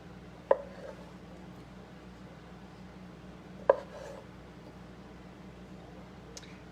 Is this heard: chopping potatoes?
yes